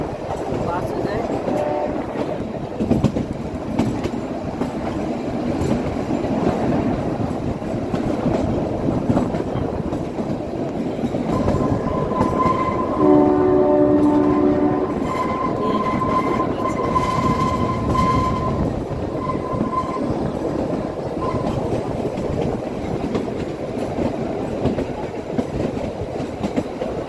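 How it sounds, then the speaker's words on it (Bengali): The Kalka to Shimla toy train climbs into the hills with a loud, steady rumble and rhythmic clatter of wheels, and a drawn-out metallic wheel squeal rises midway. "ট্রেন ক্রমশ উপরে উঠছে, ট্রেন ক্রমশ উপরে উঠছে, পাহাড়ের উপরে উঠছে"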